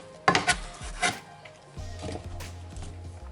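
A knife cuts an apple into pieces for apple pork, giving a few short crisp slicing and knocking sounds at the start, then a low hum and soft rubbing toward the end, with no talking.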